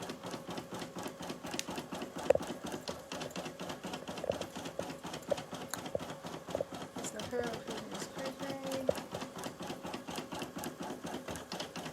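A sewing machine stitches the back of a robe in fast, steady bursts of rhythmic needle clatter, close and continuous, with a voice talking over it at times.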